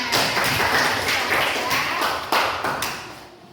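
Students clapping in a classroom for their classmates, a brisk burst of close, uneven hand claps with sharp taps that thins out and fades near the end.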